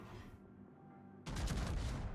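Ship guns fire a salvo in the naval warfare game World of Warships: after a quiet moment, a sudden loud booming burst of overlapping shots rumbles and rolls on to the end.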